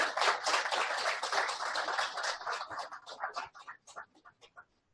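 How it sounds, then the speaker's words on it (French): An audience at a formal welcome ceremony claps, loud and dense at first, then thinning into scattered individual claps that fade out. "Je vous demande de l'applaudir."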